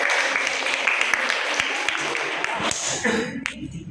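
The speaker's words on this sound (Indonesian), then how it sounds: "Tepuk tangan buat kita." A classroom of Indonesian junior high students clapping their hands together, a dense steady patter of many hands that fades near the end while voices mix in.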